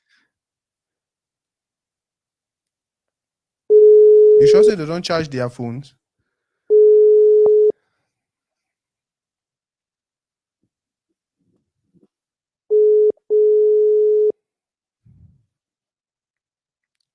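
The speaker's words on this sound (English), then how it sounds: "the calls they need even go through. Like it's not ringing." A phone call that will not go through gives short steady busy-signal beeps in separate bursts, with a voice speaking over the first one and silence between.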